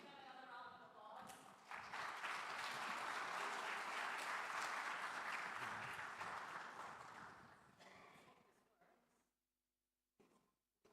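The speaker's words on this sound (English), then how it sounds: "Please give them another round of applause." A room of forum attendees applauds panel speakers in a hotel ballroom, a sustained, full wash of clapping that swells quickly, holds for several seconds, then tapers and fades to near silence with a few scattered sounds.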